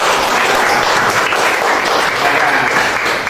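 Loud, dense applause from a crowd fills the whole moment, steady and continuous with no pauses.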